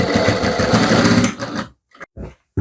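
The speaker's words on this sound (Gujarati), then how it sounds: "આને વાળી અને સિલાઈ લગાવી દેવાની આવી રીતે અહીંયાથી અહીંયા સુધી" A sewing machine stitches along a blouse hem with a fast, steady mechanical whir, then stops abruptly, leaving a few short, faint clicks and bursts of handling.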